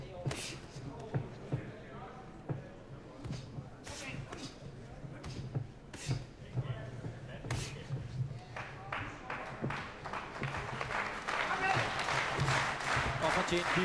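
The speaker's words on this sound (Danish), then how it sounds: "Fortjent bifald til Michael Rask." Crowd applause at a professional boxing match for Danish boxer Michael Rask, a steady patter of many hands clapping that builds toward the end, heard under a commentator's ongoing talk.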